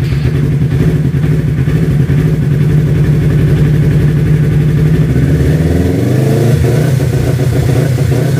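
A Kawasaki Ninja H2 replica motorcycle fitted with an Indonesian-made quick shifter runs loud and close, its engine droning steadily and then shifting pitch as it revs near the end.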